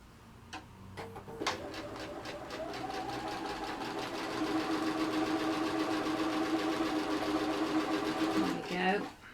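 A sewing machine stitches a scant quarter-inch seam on a quilt block, running steadily at close range for about eight seconds after a few short starts, with a quick stop at the end.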